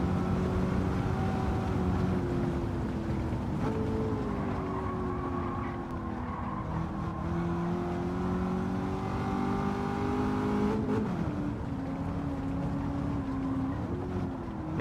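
An 8-litre V10 car engine in a racing video game hums and revs continuously, its pitch rising and falling in smooth sweeps, with a sharp shift in tone near the end.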